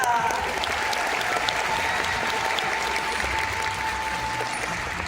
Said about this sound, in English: And an even bigger Georgia Aquarium round of applause for Sasha